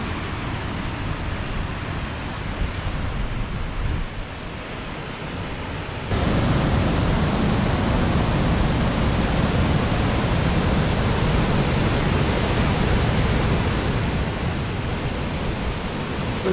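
High Force waterfall on the River Tees in the Tees Valley, a dense, unbroken roar of falling water that grows louder partway through and holds steady.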